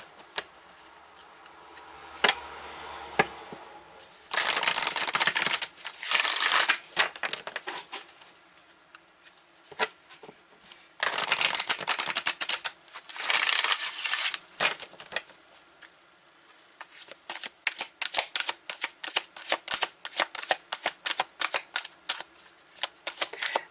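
A deck of spirit message cards is shuffled close up. Two longer riffling bursts are separated by quieter taps and flicks, with no talking.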